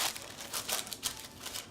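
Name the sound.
parchment paper crinkling as it is put into the pan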